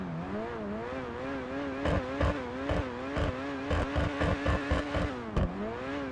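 Engine of the Itali GTO sports car in the video game GTA 5 Online, revving up and down in repeated throttle blips with a rising and falling whine and sharp crackling pops, loud and close with no talking.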